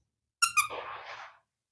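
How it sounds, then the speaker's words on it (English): A small squeaky dog toy gives two quick sharp squeaks and then a longer wheezing squeal, close and clear against silence. "And so what we're going to do is have just this little squeaky toy."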